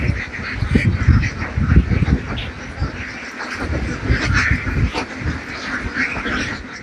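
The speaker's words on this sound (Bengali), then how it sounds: "উনি প্রায় 3000 হাঁস নিয়ে একটি খামার গঠন করছেন।" A large flock of about 3000 ducks on a duck farm quacks continuously and loudly, many overlapping calls forming a dense, noisy chorus.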